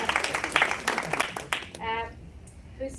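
An audience at a multicultural apprenticeship awards shortlist reveal gives a brief burst of dense applause. A voice speaks over it and carries on as the clapping fades.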